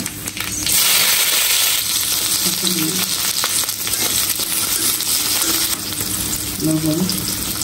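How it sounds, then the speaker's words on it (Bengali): Nigella seeds (kalonji) hitting hot oil in a pan as a tempering, a loud, dense, continuous sizzle up close with a few brief stirring scrapes. "কালি জিরা ফোড়ন দিয়ে দিলাম"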